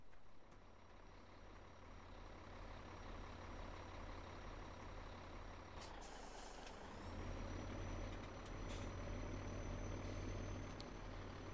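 Typical Irish farmer's truck in a farming game, its engine idling steadily with a hiss like an air brake midway, then a louder, fuller rumble as it picks up; no one speaks.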